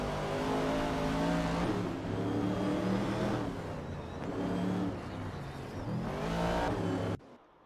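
Race cars at Road Atlanta in a racing video game roar past with sustained engine drones that rise and fall through gear changes, loud and continuous, with no talk.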